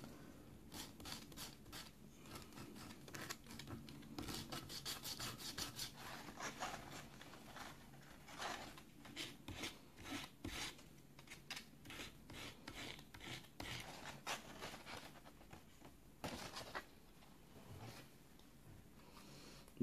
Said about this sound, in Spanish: si ustedes ven que necesito darle una lijadita, lo que usemos nada más es darle un toquecito acá, suave